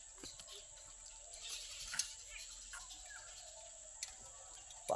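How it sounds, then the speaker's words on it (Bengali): Distant birds chirp sparsely over a foggy morning field near a weed-covered pond, a few short faint calls against quiet background hiss. "দূরে পাখি ডাকছে,"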